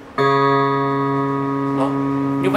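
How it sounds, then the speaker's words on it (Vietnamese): Đàn bầu DB300 monochord sounding through its built-in speaker, a single sustained, bright tone that rings on steadily after the pluck, close and fairly loud, with no talk over it. "Như vậy là đây là tiếng kêu của loa ở trong đàn."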